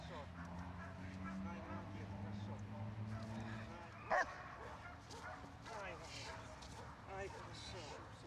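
A dog in fetch training on a bite sleeve gives yips, whimpers and barks, with one sharp louder burst partway through, mixed with people talking and a steady low background hum.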